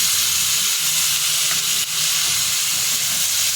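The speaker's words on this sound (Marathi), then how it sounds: "भाजी शिजून घेतलेली आहे ती टाकून आपल्याला परतून घ्यायची" Cooked vegetables sauté in a hot pan, giving a loud, steady hiss and sizzle that holds evenly throughout with no voices.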